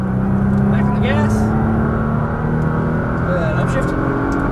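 A Nissan GT-R's engine pulls hard on a race track, a loud sustained drone with rising tones as it accelerates, while a voice talks over it.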